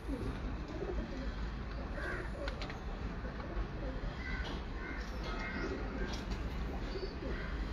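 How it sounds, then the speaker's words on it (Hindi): Prince Kamgar pigeons coo softly in repeated low, throaty calls, faint against a constant background hiss. "मुझे एक और प्रिंस कमगर कबूतर आया दोस्तों"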